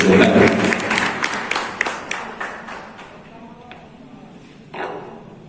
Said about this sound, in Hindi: एक बार जोरदार तालियों के साथ